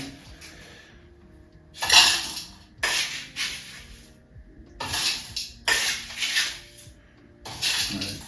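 A big spoon scoops crushed ice for a slush shot, giving several crunchy, scraping bursts of ice grains at uneven intervals with quiet pauses between, close and fairly loud.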